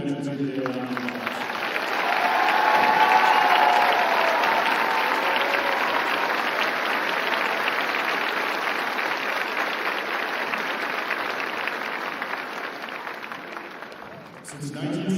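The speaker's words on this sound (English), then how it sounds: "Ladies and gentlemen, please give the veterans here today a round of applause." An audience at an Army basic combat training graduation ceremony applauds veterans: a sustained wash of clapping from a large crowd that swells early, holds steady for about twelve seconds, then fades.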